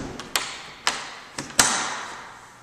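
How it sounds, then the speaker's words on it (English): A house door swings and is shut, giving four sharp knocks and thuds in under two seconds, the last one a louder slam that rings briefly, fairly close and otherwise quiet. "Okay, one second, and I'll shut this door behind me."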